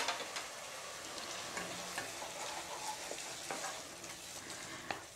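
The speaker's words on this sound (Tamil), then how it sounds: "தக்காளி பச்சை ஸ்மெல் போகிற அளவுக்கு வதக்கி விடுங்க." Tomato paste is sautéed in a pan as the base for a paneer gravy: a steady bright sizzle with occasional scraping stir strokes and small ticks, heard alone and fairly soft.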